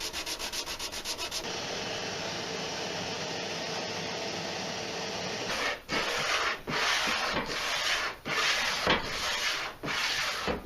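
Close, continuous sanding rasps across a reclaimed wood plinth to clear glue squeeze-out, settling into rhythmic back-and-forth strokes with short pauses halfway through.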